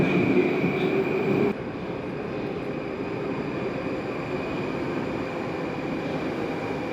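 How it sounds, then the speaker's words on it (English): Moscow metro train at Vorontsovskaya station, a steady loud rumble of carriages with a high whine, a sudden drop in level early on, then continuous running noise. "Welcome to the most photogenic station in Moscow metro."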